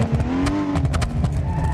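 Car engine in the BeamNG.drive driving game, a steady loud drone with a few sharp exhaust pops and crackles scattered through it, heard alone without talk.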